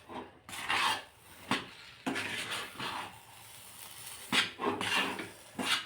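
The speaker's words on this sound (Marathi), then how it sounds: "इकडे पुरण सुद्धा फिरवत राहायचं आहे." Puran, a jaggery filling, being stirred in a pot over medium heat, with repeated rasping scrapes of a spoon along the pot's bottom in uneven strokes, close up and alone.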